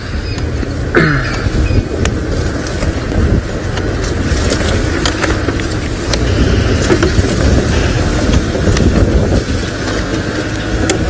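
Safari vehicle engine rumbling as it drives and repositions in the bush at sunrise, a loud, steady low drone with wind buffeting and occasional clunks.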